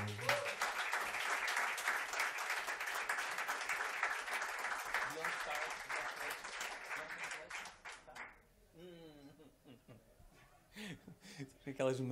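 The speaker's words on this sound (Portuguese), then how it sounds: "E mais uma salva de palmas para esta gente que está aqui atrás" Concert crowd applauds the backing musicians at a show, a thick, steady clapping for about eight seconds that fades out, followed by someone speaking alone.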